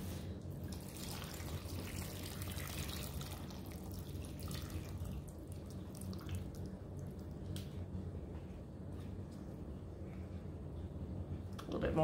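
Water trickling and splashing into a simmer pot on the stove, a soft continuous pour with small drips, faint and close.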